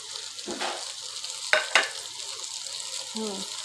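Hilsa fish frying in hot oil, a close crackling sizzle with a few sharp spatters and utensil taps, brief and uneven.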